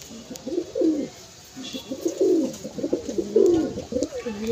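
Close, soft cooing from female pigeons in a home loft comes in several low, throaty rolling phrases with brief pauses between them.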